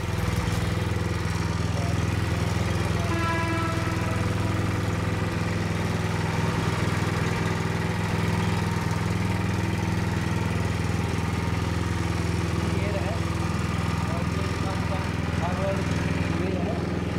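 A BCS 8HP mini rotavator tiller engine runs steadily throughout, a loud continuous low drone with a buzzing mid tone and no breaks.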